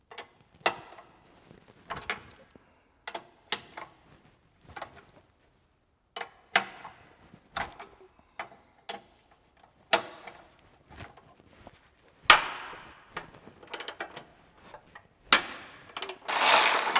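A socket ratchet loosens 17 and 19 mm bolts on a Honda Civic Type R FL5 in a close, quiet space. Short bursts of rapid pawl clicking repeat with pauses between, growing busier toward the end.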